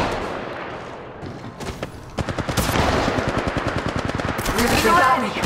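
Rapid automatic gunfire in the mobile battle royale game Apex Legends Mobile, bursts of loud clattering shots that build into a sustained close barrage, with a voice briefly speaking early on.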